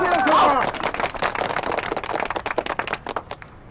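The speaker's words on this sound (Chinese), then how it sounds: "来，鼓掌！" A village group breaks into clapping, fairly close and busy, the claps thinning into scattered individual hits while voices carry over the start.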